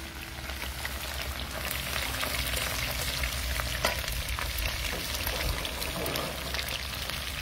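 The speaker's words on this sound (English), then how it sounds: "And so while that's frying up," Steady loud sizzling of a hurri fish head frying in hot oil, with crackles and pops throughout and no voices.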